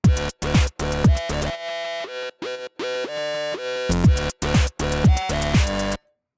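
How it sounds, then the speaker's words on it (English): A synth lead built from two sawtooth waves, its notes sliding and bending in pitch, plays a short melodic phrase over punchy drum hits, then stops abruptly. "Here's a cool little pitch modulated lead."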